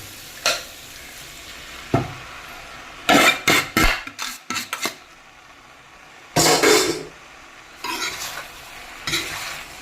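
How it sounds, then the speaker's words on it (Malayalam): Boiled pasta tossed with masala in a hot pan: a spoon scrapes and stirs in short bursts, with soft sizzling between strokes, close by and without talk. "നമുക്കിനി വേവിച്ച് പാസ്ത മിക്സ് ആക്കാം"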